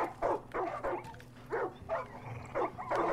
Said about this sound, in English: How many dogs are in there?